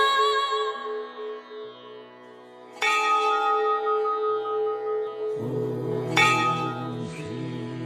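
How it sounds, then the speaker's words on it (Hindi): A temple bell rings in a hilly area, clear metallic strikes with long shimmering decays, two sharp hits spaced apart over a sustained tonal background, loud and close with no voices. "इतने पहाड़ी इलाके में मंदिर बंद है फिर भी घंटी बजी है।"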